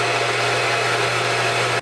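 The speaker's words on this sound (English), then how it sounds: "So I'm gonna put it here in this little Ninja blender." Small Ninja blender running steadily, mixing oil and water into a frothy drink; a loud, continuous motor whir with constant hum, stopping abruptly at the end.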